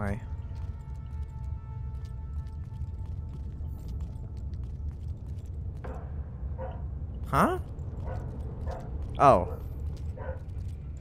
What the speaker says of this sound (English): sorry about the dog, by the way